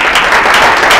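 Brief burst of crowd applause at a bar association forum, steady and fairly loud with no talk over it.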